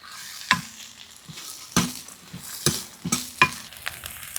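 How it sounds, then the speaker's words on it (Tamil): Guava leaves and ginger are sautéed over a slow fire in a pan, with a soft sizzle broken by sharp, repeated scrapes of a spoon stirring close by, and no voices. "இஞ்சி இப்போ கொய்யா இலை இதெல்லாம் போட்டு நல்லா வதக்கியிருக்கிறோம்"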